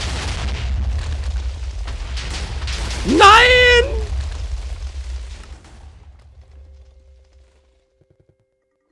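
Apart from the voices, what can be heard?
video game TNT explosion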